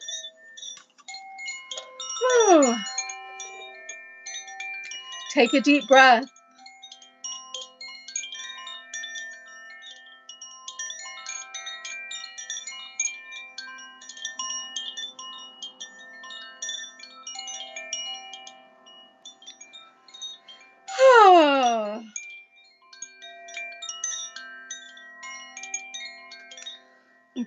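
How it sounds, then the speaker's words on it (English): A Koshi chime tuned to the Earth element is played, giving off three bright, shimmering strikes of clustered metal tones that ring on softly between them, with a quiet voice speaking briefly. "that is the Koshi chime. Earth energies."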